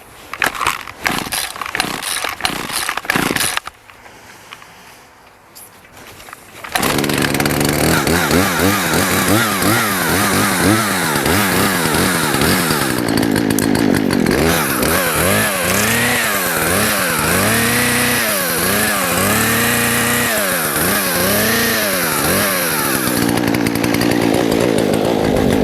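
A small Husqvarna chainsaw starts and runs close by, loud and steady, with repeated revving surges through most of the stretch and no talk.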